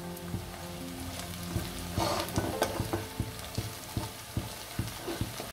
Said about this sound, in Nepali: खुर्सानी राखेर मैले एकैछिन फुटेँ